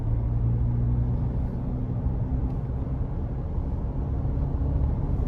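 Steady low road and tyre rumble inside a Mahindra Thar Roxx driving along, a constant dense drone with no engine note standing out and no talk.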